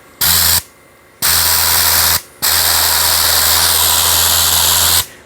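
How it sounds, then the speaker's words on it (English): A cracked The Rag Company Ultra Air Blaster blower roars in three loud, steady bursts with a low motor hum and hissing airflow, separated by short pauses of near silence. "Even though it's cracked, I am still getting constant airflow."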